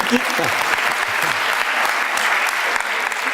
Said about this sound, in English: let's give her a little round of applause